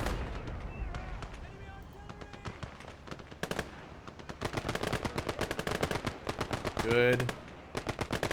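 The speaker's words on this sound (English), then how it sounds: "I think this is a faster firing machine gun." Rapid bursts of a fast-firing machine gun in a WWII strategy game, rattling in long, dense volleys with a louder stretch late on, while someone briefly speaks over the gunfire.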